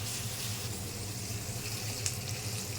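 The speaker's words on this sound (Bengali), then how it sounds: "তারপর পেঁয়াজ কুচি দিয়ে দিলাম।" Chopped onions sizzle and fry in a pan with bay leaves, a steady close hiss with faint crackle and no talk, while cooking banana flower.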